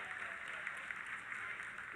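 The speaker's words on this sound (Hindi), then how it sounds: "आप तालियों के गड़गड़ाहट से सुन सकते हैं" Sustained applause fills the mission control room during the Chandrayaan-3 lunar landing, a steady even wash of many hands clapping, moderately loud and unbroken.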